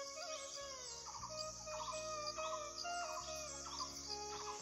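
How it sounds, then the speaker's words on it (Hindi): Birds call repeatedly in the mountains around a hill village, with bright chirps and tweets over a constant buzz of insects, and no one speaks. "ये देखो कैसी पक्षी की आवाज़ आ रही है,"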